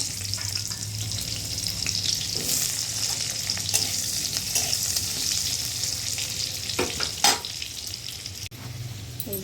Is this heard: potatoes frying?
yes